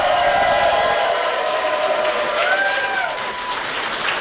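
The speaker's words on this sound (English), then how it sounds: "can I just get a big round of applause for all you guys for coming out?" Steady crowd applause fills the space, a dense wash of clapping that holds throughout and eases slightly toward the end.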